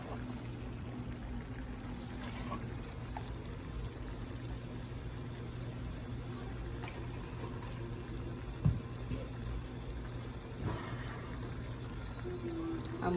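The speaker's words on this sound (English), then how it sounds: "I already have my meat cut and simmering here." Cut beef chuck simmering in a pot gives a steady low bubbling and hiss that runs throughout, with a few faint clinks over it.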